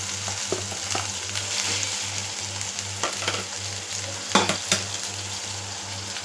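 Chopped medium tomatoes sizzle steadily in a pan of mushroom gravy, a close, continuous frying hiss broken by occasional stirring scrapes and light pan knocks.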